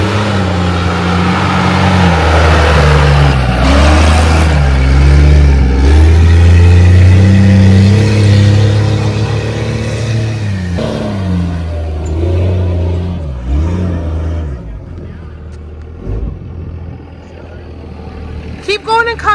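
A stock Jeep Liberty's engine drones and revs loudly off-road, the low steady roar swelling and dipping through climbs, with people talking and shouting encouragement over it throughout.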